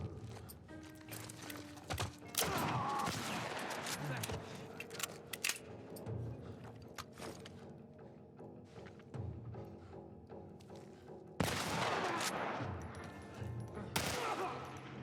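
Assault rifle fire in The Last of Us comes as dense bursts of shots that build and fade, with loud volleys near the end over game music and background noise.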